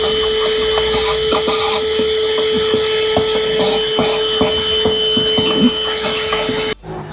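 A Blaupunkt 110 W car vacuum cleaner runs steadily with a whining motor hum and a constant tone, picking up dirt with light rattles, before cutting off abruptly near the end.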